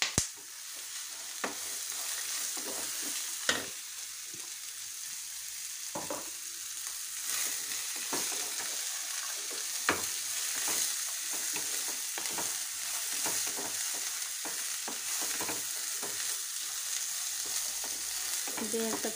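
Ridge gourd peel frying and being stirred in a hot pan, a steady close sizzle throughout with repeated scraping and tapping of the spatula at irregular intervals.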